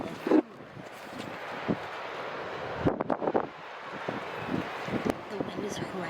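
Strong wind near a beach at sunset buffets the microphone in a steady rushing roar with gusty thumps, heard from inside a car's open trunk, with a voice speaking over it.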